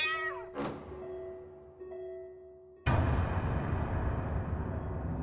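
An angry cat meows within a gothic horror audio drama, a single strained cry followed by a fading tonal hum, then a sudden loud swell of dense music or noise that holds to the end.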